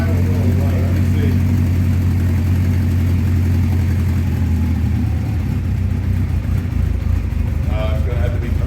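A 1984 Honda CB700SC Nighthawk motorcycle running cold after a carburetor clean, its engine idling low and uneven with a steady throb, as someone talks over it.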